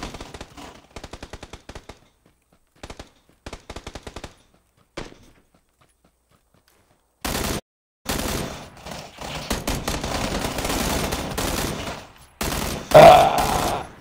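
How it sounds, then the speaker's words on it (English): Gunfire in the PUBG video game on Xbox: several quick bursts of automatic fire with short gaps, then a louder, denser stretch of sustained shooting and impacts, close and loud, without talk. "I'm taking shots."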